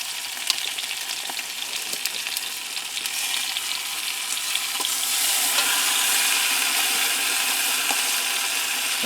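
Slices of brown sugar cured, oak-smoked ham frying in a pan give a close, steady hiss and crackle that swells louder and denser about halfway through, with no voices.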